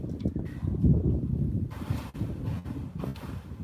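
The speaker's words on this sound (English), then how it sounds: "I know it's windy." Outdoors on a windy day, gusts buffet a microphone in low, uneven rumbling bursts that swell and fade over a few seconds, fairly quiet overall.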